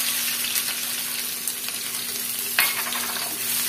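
Crushed onion and garlic sizzle steadily in hot coconut oil, a continuous close frying hiss with a brief sharper crackle burst partway through, no voices.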